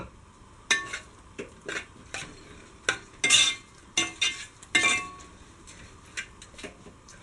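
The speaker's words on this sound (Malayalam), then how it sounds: "ഇനി ഇതൊന്ന് നന്നായിട്ട് ഇളക്കി പറ്റിച്ച് എടുക്കുക." A spatula stirs a horse gram stir-fry in a pan after the lentils' cooking water has been added, giving repeated sharp clinks and scrapes at an uneven rhythm, close and fairly quiet.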